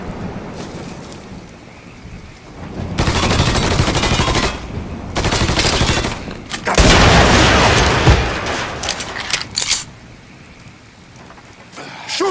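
Bursts of automatic gunfire in the video game Mafia 3 come in several loud clusters separated by quieter gaps, with crackling, rain-like texture between volleys.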